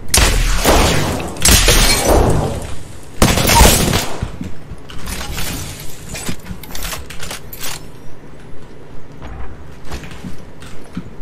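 Gunfire in Apex Legends: loud, close bursts of shots with shattering impacts early on, then a long run of evenly spaced single shots that fade slightly.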